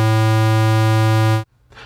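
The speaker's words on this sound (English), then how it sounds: "So the square wave sounds like this." A steady 110 Hz square wave tone sounds loud and unbroken for about a second and a half, then cuts off abruptly into quiet room noise.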